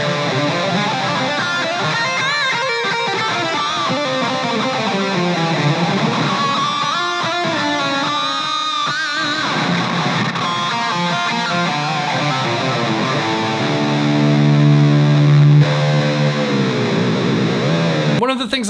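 Solar V 1.6 FRC electric guitar through an amp's lead channel, with a steady run of distorted riffs and melodic lines that ends in a loud sustained note, played throughout with no speech.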